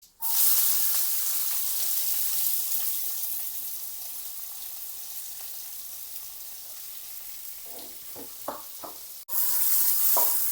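Chopped onion sautés in hot oil with mustard seeds and fennel seeds, a loud continuous sizzle that fades slightly, then a few stirring knocks, a short break and a renewed burst of frying.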